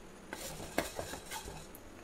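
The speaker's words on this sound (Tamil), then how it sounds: "இதை நல்லா வாஷ் பண்ணிவிட்டு ஒரு பேனில் போட்டிருக்கேங்க. இதை நம்ம ஒரு 2 நிமிஷம் நல்லா வறுத்து விட்டுக்கலாம்." Split moong dal dry-roasting in a pan, stirred with a utensil that gives soft scraping strokes and light rattles of dry lentils at a steady pace, fairly quiet and close.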